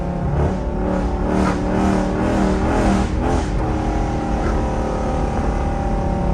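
A rebuilt Dodge Charger R/T fitted with a 392 transmission roars loudly and steadily from inside the cabin, the engine note rising and shifting under load with a constant heavy drone.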